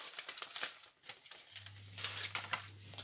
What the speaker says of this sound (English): All we do is pour in our lentils